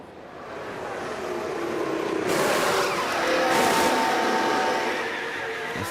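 In the F1 Manager 24 racing game, the race leader's F1 car pulls in for a pit stop for fresh tyres at Yas Marina. A loud, steady engine roar swells and fades with no talking.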